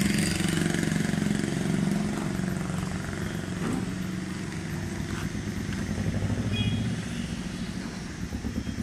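New Holland 4710 Excel tractor with a 47 HP engine idling nearby, a steady low throbbing rumble that holds evenly throughout with slight fluctuations and no talk.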